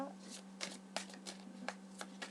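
Playing cards shuffled by hand for a card reading, a series of short, crisp riffling bursts at an uneven rhythm, close and fairly quiet over a steady low hum, with no talking.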